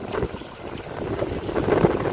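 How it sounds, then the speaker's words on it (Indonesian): A speedboat engine drones steadily past, mixed with wind buffeting the microphone and water noise, growing slightly louder toward the end. "Itu perahu cepat."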